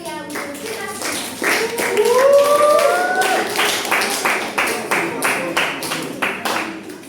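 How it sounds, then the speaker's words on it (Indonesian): Applause at a BULOG roleplay event, a dense burst of clapping hands that holds steady and fairly loud, with a voice rising briefly over it partway through. "Tepuk tangan yang meriah untuk kita semua."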